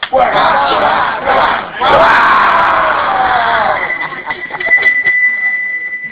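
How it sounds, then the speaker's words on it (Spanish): A crowd at a live show near Mount Vesuvius breaks into loud cheering and shouting, a dense roar of voices that dips briefly, surges back, then thins to scattered yells with a sustained whistle-like tone. "un aplauso católico"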